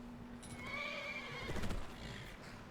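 A horse neighing after being called in Skyrim, a single drawn-out whinny with a falling, shaky pitch, followed by a few hoof clops, fairly quiet with no talk over it.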